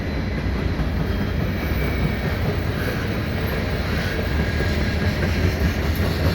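A CN mixed freight train rolling past at Dorval in winter, a loud, continuous rumble and rattle of wagons close by with a steady low roar throughout.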